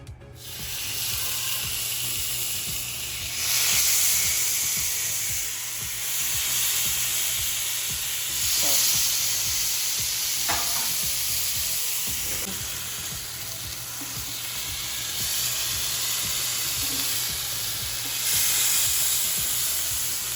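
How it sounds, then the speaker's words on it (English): Chicken kebabs cooking on an indoor grill give off a continuous close sizzle and frying hiss that swells and eases, with a few soft scrapes and pops. "I will cook on a grill indoor."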